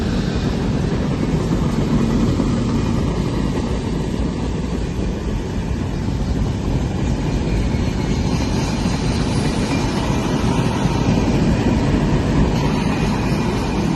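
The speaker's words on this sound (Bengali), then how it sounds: "অবশেষে ট্রেনটি দেখতে পেলাম। আর যাই হোক, ট্রেনটি দেখে অনেক ভাল লাগছে। বিশাল বড় ট্রেন।" A very large train rolls past close by, its dense, steady rumble and roar continuing without a break for the whole stretch.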